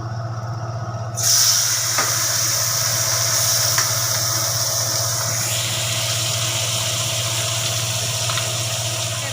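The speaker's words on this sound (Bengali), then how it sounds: "আমার তেল গরম হয়ে গেছে, এবারে ট্যাংরা মাছগুলো দেবো।" Tangra fish dropped into hot oil for a spicy curry set off a sudden steady sizzle and hiss that starts about a second in and holds at even loudness, close by, with no talking.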